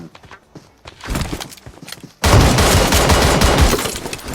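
Pump-action shotgun blasts in the mobile battle royale game PUBG Mobile, heavy booming shots that rise into a loud, dense burst of gunfire after quieter clattering and footsteps, with no talking.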